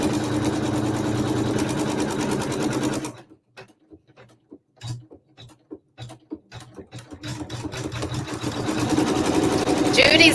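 An embroidery-style sewing machine tacks down fabric for a Christmas quilt block with a steady, rapid mechanical whir. It stops for a few seconds, leaving sparse clicks and faint sounds, then starts stitching again.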